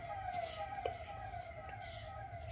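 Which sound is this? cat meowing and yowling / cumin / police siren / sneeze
police siren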